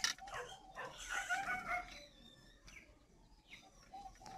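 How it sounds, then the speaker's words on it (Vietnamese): Spotted doves coo at a large bird farm in Ba Vi, Hanoi, a few soft, rhythmic calls at close range among other chirping birds, with a dog-like bark at the start. "Đó, chim của mình nó gáy đó."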